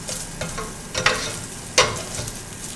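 Butter sizzles in a lightly oiled skillet, a steady close frying hiss with a few sharp clinks and bursts of crackle, and no voices.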